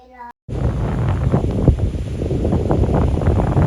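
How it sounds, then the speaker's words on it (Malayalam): Cold wind on a road trip through Lofoten, Norway, buffets the microphone in a loud, continuous roar after a brief quiet moment at the start. "നല്ല തണുത്ത കാറ്റും"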